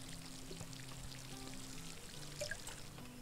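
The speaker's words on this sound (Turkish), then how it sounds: "Suyunu bol verelim." Water pours onto planted crops in a farming video game, a faint steady splash and trickle beneath soft game music tones.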